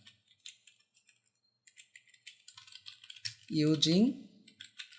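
Computer keyboard typing while writing PHP code: a run of light, quick key clicks, close and fairly quiet, with someone speaking briefly partway through.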